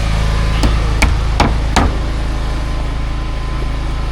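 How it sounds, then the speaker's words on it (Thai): At a building site where crew are tying rebar for a concrete beam, four sharp hammer blows ring out about half a second apart, loud and close, over a steady low engine rumble, then only the rumble continues. "นี่เพื่อกำลังตอก"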